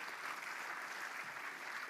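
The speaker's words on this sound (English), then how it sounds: "we can clap on that" Brief burst of audience applause at a PowerShell conference session, steady dense clapping from a crowd, fairly quiet and without speech.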